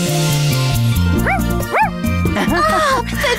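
A small dog gives a few short, high yips and barks over cheerful background music in a children's cartoon, with a voice chiming in briefly.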